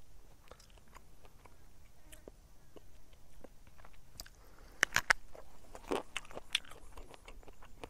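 Someone bites into and chews a young, crunchy bush banana vine pod with milky sap, foraged in the wild; a few sharp crunching bites stand out over faint outdoor insect buzz.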